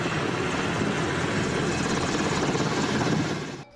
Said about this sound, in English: The B-2 Seahawk helicopters even joined in on the action with difficult practice landings while the ship